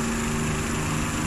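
Supercharged aircraft piston engine in the War Thunder combat flight game, a steady loud buzzing drone with a constant tone, heard alone.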